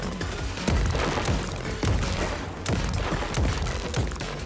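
Shotgun blasts in the video game Atomic Heart, a run of heavy booming shots roughly every half second to second, punchy and close over a busy game soundscape.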